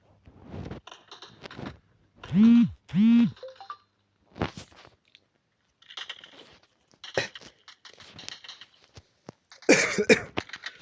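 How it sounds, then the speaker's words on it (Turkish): A pair of sharp, close coughs in a row, then scattered throat noises, rustling and brief muffled sounds in an otherwise quiet room. "Öksürük geldi"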